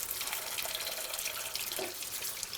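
Running tap water splashes steadily over fresh mussels being cleaned at a kitchen sink for a tomato-sauce dish, a continuous close hiss and patter with no talking.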